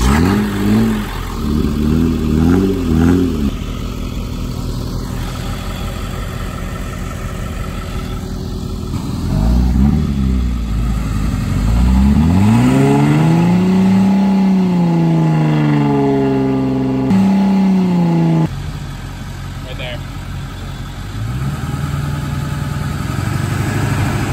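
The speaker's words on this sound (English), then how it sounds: "Just like that, a Jeep has come to save the day. Also, muffler delete, muffler delete." A Jeep with its muffler deleted idles roughly and revs hard during a mud recovery, its loud raw engine note swelling and dropping in long sweeping pulls, close by.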